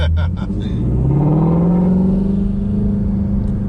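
Ford Mustang GT350 engine, a deep, loud rumble that swells as the revs climb and then holds a steady throaty drone, with a person's voice briefly at the start.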